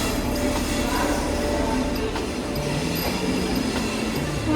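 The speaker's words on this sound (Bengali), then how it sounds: "তো স্টেশনে ট্রেন চলে এসছে" A train pulling into a station, a steady rolling rumble of wagons with faint metallic clinks and brief wheel squeals, close and continuous throughout.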